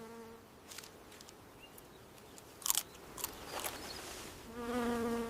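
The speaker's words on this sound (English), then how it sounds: "Even a single bee demands a little caution before it becomes a meal." A single bee buzzing near a foraging meerkat, heard as an intermittent droning whine at the start and again louder at the end, with crunchy chewing and biting clicks in between.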